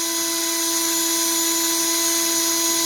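An electric drill whines steadily at full trigger on its low speed setting, twisting wire for a stagger fused Clapton coil; the tone is loud, close and constant, with no voices.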